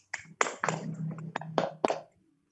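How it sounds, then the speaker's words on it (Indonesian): A few sharp hand claps ring out in quick, uneven succession in a classroom, applause for the students, close and moderately loud, with a faint voice-like hum underneath. "Aplaus dulu untuk kalian semua."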